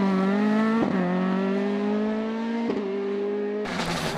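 Ford Escort Mark II two-wheel-drive rally car on a stage of the Ravens Rock Stages Rally, its engine loud and close, revving hard in rising sweeps with brief gear-change breaks.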